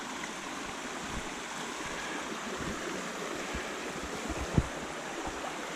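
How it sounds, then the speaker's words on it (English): Water flows steadily through Blackwell Creek, a pool on the Appalachian Trail, giving a constant broad rushing wash with a few faint knocks and one sharp click partway through. "This is Blackwell Creek. Gorgeous little pool of water."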